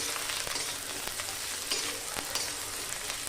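Eggplant pieces stirred and frying in a hot pan for a spicy brinjal bharta: a steady, close sizzle broken by a few sharp scraping stirs.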